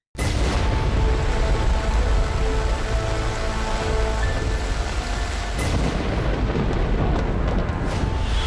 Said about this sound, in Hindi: मुंबई में बर्बादी की बारिश